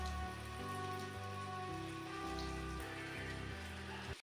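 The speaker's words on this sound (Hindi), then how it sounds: "अभी फिलहाल तो बारिश और तेज़ हो रही है, तेज़ ही होती जा रही है बारिश भी" Heavy rain falls steadily and loudly, a continuous dense hiss of drops on surfaces lasting throughout before cutting off abruptly.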